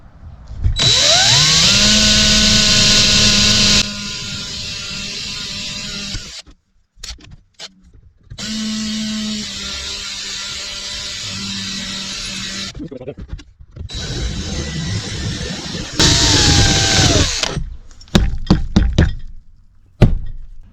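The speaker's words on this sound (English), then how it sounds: "So I'll drill these out." A power drill whines in long bursts drilling out holes while refitting panels on a 2005 American Eagle RV generator, its pitch rising and falling as it bites, with clunks and handling knocks between runs.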